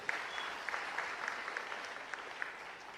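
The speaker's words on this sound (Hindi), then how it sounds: "जरा ताली तो बजाओ" An audience applauds at a government event for women's self-help groups, a quiet, distant spread of clapping with a few sharper individual claps standing out.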